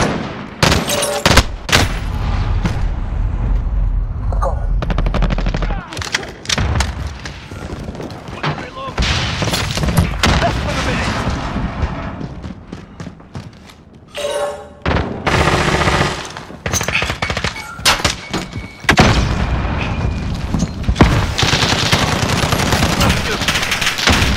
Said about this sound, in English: sentry gun active